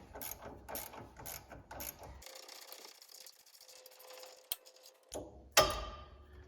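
A quarter-inch ratchet clicks in quick bursts while a 15mm nut on a Grand Marquis front sway bar end link is loosened during an air suspension install, followed by a few metallic knocks and a sharp clank near the end.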